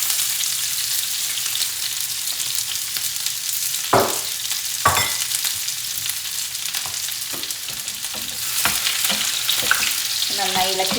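Chopped garlic fries for mango pickle in a steady, loud sizzle while a spoon scrapes and knocks against the pan at irregular moments, with no talking.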